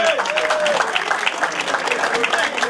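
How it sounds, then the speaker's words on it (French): A crowd at a hill climb podium ceremony in Alsace applauds the organizer, dense steady clapping throughout with a voice speaking over it at first. "Vous pouvez l'applaudir."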